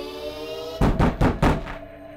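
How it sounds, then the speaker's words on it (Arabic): Loud knocking on a cabin door lands close by in a quick series of four heavy, booming blows, then stops, with no voices. "صدى صوت الخبط اتردد في الكابينة كلها كأنه جاي من كل اتجاه حتى من السقف"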